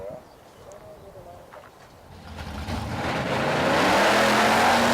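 A junior dragster at the drag races at Kauai Raceway Park in Mana roars up from a quiet start, its engine swelling loud and close over the last few seconds. Pigeon-like cooing sounds faintly at first.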